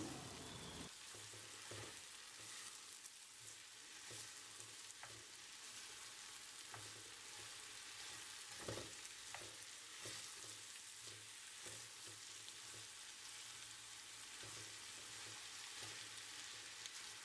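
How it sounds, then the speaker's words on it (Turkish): Peppers and zucchini sautéing in a pan, a steady soft sizzle with occasional stirring clicks and scrapes throughout, fairly quiet and with no voices. "çıkan biberi birazcık kavurduktan sonra ardından kabakları ilave ettim"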